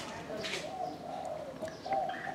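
A spotted dove coos in soft, low, repeated notes at close range, with some faint higher chirps and background noise between the calls.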